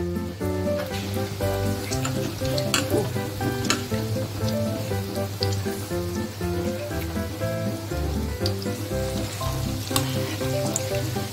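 Fish roe frying in a pan over medium heat, a steady close sizzle with occasional crackles that continues without a break.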